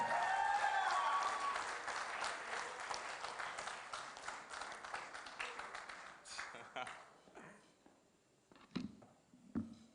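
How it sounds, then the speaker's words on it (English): A wedding reception audience applauds the bride and groom, a dense burst of clapping that gradually thins into scattered claps, with people talking around it. "Please give a warm round of applause for the bride and groom again."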